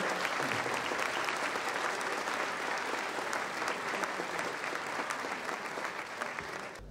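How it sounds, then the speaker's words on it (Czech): An audience at a lecture club discussion applauds steadily to welcome guest Robert Záruba, a dense, even clapping that holds at the same level throughout. "tak prosím dobrý potlesk"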